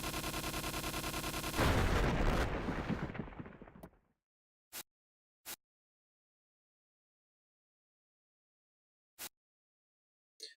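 Bomb explosions in the side-scrolling video game Iconoclasts: a loud, dense burst of blasts during the first few seconds fades out. Four short, sharp pops follow alone against silence.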